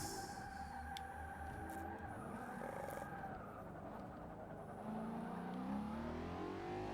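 A race car in Forza Motorsport 6 brakes hard, its engine note dropping and winding through the gears over faint tire noise. The car sounds steady and fairly close, with no talking.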